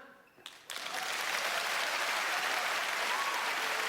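A comedy gala audience at a stand-up show bursts into applause after a brief pause and a couple of sharp sounds, the clapping swelling quickly into a steady, full roar.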